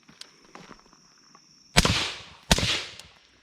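Two sharp pistol shots fired as a controlled pair at a target on a training range, spaced about three-quarters of a second apart, each loud and close with a ringing tail, after a quiet lead-in.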